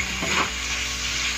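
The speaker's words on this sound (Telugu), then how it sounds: "చక్కగా బాగా ఫ్రై అయిపోవాలి, మగ్గిపోవాలి టమాటో." Tomatoes and onions with turmeric frying over a medium flame in a pan, producing a loud, dense, continuous sizzle heard up close, with a brief stir of the spoon near the start.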